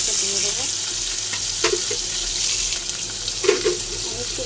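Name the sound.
chopped onions frying in oil with cumin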